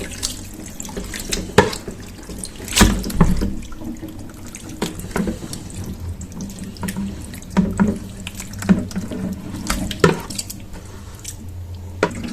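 Hot water from pork boiled for traditional Thessaly bacon and lard pours from a pot into a kitchen sink, a steady splashing gush with drips and a few louder sloshes, close and alone.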